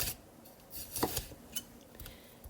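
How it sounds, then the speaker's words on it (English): A knife slicing a red pepper on a cutting board, a few quiet, light taps and scrapes spaced irregularly, soft and close. "Cut the red pepper into 1/2-inch slices"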